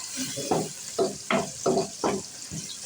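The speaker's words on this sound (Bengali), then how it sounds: "এবার পেঁয়াজটা লাল লাল করে ভাজবো" Onions frying in a pan with bay leaf and garam masala for a spicy chicken curry, bursts of sizzling and stirring scrapes about every half second, close and steady with no talk.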